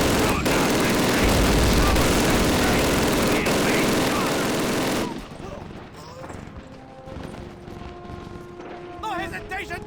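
Heavy gunfire and explosions in Call of Duty, set in a Soviet assault, roar loudly for about five seconds before dropping to lighter scattered shots and battlefield noise, with shouted voices through the fighting.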